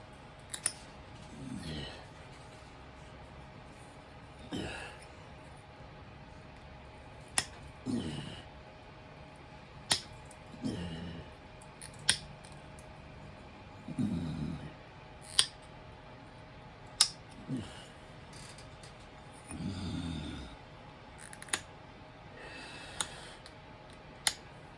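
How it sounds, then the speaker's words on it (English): Pressure flaking a stone point by hand, with intermittent sharp clicks and short scraping bursts spread irregularly across a quiet background, close and fairly faint. "We're just gonna pressure flake this joker out"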